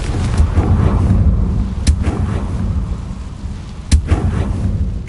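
In Hogwarts Legacy, the Confringo fire spell goes off in deep, rumbling blasts, with two sharp explosive cracks standing out over continuous low booming.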